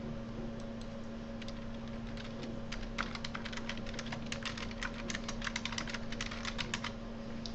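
Rapid, uneven clicking from fingers typing on a computer keyboard, with key taps in quick bursts over a steady low background hum and no voices.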